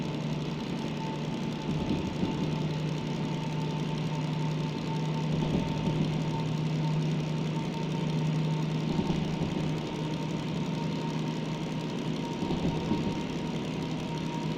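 A DM3 locomotive diesel engine in Derail Valley throttling up, a steady mechanical drone with a clear hum and rhythmic knocking that holds at an even level throughout, with no voices.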